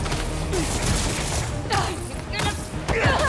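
Bursts of gunfire and crashing impacts from combat in the PS5 game Spider-Man 2, fairly loud and continuous across the moment, with shouting voices layered over the action.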